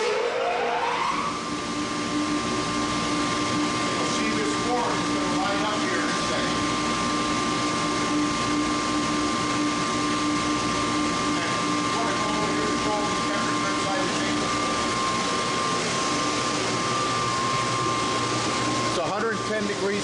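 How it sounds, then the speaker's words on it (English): A cremation furnace's blower and pollution control system run with a steady, loud mechanical roar and whine that continues evenly throughout. "I am going to turn the pollution control on, and I'm going to turn the blower on."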